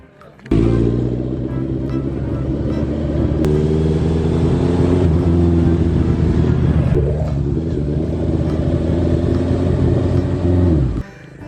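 Honda CBR 650F motorcycle starting off and riding on the road, its engine a loud, steady, close drone with a slight rise in pitch partway through before cutting off abruptly.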